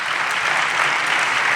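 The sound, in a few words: applause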